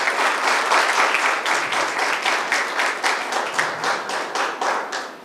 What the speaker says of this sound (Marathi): जोरदार टाळ्या ह्या झालेल्या पाहिजे।